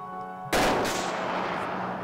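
A single loud gunshot in Arma 3 cracks sharply after a quiet moment, followed by a long rolling echo that fades slowly.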